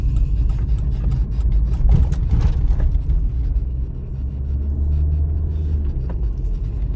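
A car drives on a city street during a driving licence exam, heard from inside as a steady low engine and road rumble with faint mechanical clicks, continuous throughout.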